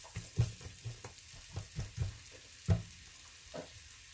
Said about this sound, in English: stir this around so it can get nicely coated in the olive oil